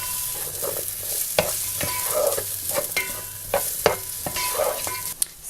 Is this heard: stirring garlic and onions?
yes